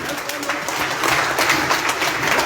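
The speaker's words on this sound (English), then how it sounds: "Applause, guys." Audience applause at a political rally, a dense, steady wash of clapping hands across the crowd with no talk over it.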